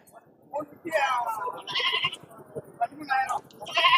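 Goats bleating at a crowded livestock market in Pudhiyamputhur, Thoothukudi district, several short calls rising over a steady murmur of people talking nearby.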